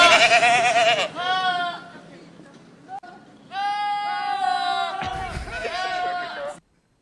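Goats bleat loudly in repeated, wavering calls, a long burst at the start and another few seconds later, with a brief thud and a short pause between them.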